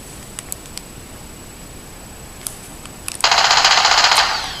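A loud, rapid burst of automatic gunfire from the video game Resistance: Burning Skies, thin and light, lasting about a second before tailing off, after quiet clicks and faint ticks.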